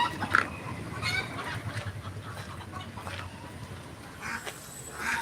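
Ducks on a farm quack and honk in a noisy cluster, a steady low chatter of birds close by with a few sharper calls rising above it.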